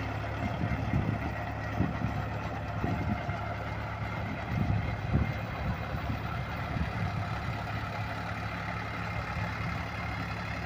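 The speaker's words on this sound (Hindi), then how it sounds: "कितनी शानदार आवाज़ निकाल रहा है ट्रैक्टर।" Sonalika DI RX 35 tractor (45 HP) pulling a 1.25 m rotavator through a field, a steady low diesel drone with churning rumble, continuous and fairly close, no talking.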